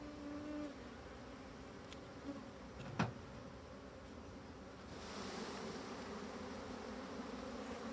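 A colony of black honeybees in an open Dadant hive, a steady low hum of buzzing close by with a sharp knock about midway, swelling louder in the final seconds as the bees are shaken from a frame.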